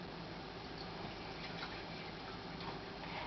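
Apple cider vinegar poured steadily into a measuring cup, a continuous close liquid splash and gurgle lasting throughout with no talk.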